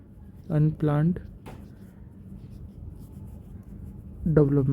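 Marker or chalk scraping on a board during an urbanization economics lecture, a soft continuous rubbing stroke heard between bursts of the lecturer's speech.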